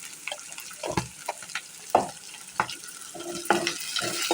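Chopped onions and green chillies fry in a pan with turmeric, giving a soft sizzle broken by irregular scraping stirs and spatula knocks, close by and moderately loud, with no talking.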